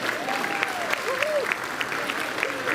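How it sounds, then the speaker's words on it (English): Applause from a fan convention audience at a celebrity guest talk, steady dense clapping filling the hall with some crowd murmur and faint voices underneath. "Can we have a round of applause for John's back?"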